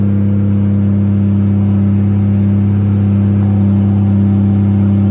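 Toyota 1JZ-GTE engine running on E85 fuel in a Nissan Z32 idles and revs near 3,000 RPM, a loud, steady, close rumble with strong low drone throughout and no talking.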